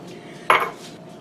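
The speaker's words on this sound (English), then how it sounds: "Now we're just going to stir this right in here." A spoon clinks once against a pot while starch is stirred into cold broth, a single close, bright knock that fades quickly and is left alone, with no talking.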